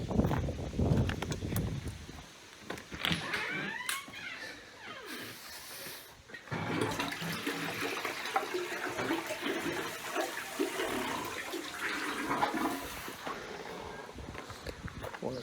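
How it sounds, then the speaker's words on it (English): A residential toilet flushes, run to test a pump system: bursts of rushing, gurgling water swell and fade over several seconds, mixed with knocks, footsteps and faint talk, then a second sustained wash of water noise follows. "Flush the toilet."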